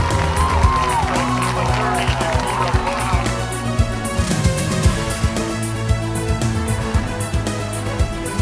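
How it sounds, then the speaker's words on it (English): A high school football crowd at a Hobart vs. Griffith game rumbles with cheers and shouts in a dense, continuous wash, with busy crowd voices and announcer-like talk mixed in. "a concerned Panther crowd."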